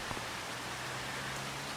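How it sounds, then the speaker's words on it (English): Rain falls steadily in the farming video game Farming Simulator 25, a soft even hiss of drops with no other sounds. "it's going to rain a good part of the day here"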